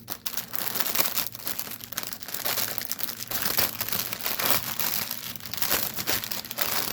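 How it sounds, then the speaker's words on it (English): A plastic bag of embroidery thread from a stamped cross stitch kit crinkles and rustles steadily and close up as the thread is pulled out, a continuous crumpling texture with no voices. "Get these threads out of its baggie here."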